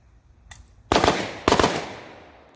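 Two loud, close gunshots from an AK rifle fitted with a Trijicon SRO red dot, about half a second apart, each with a long ringing tail, after a faint click.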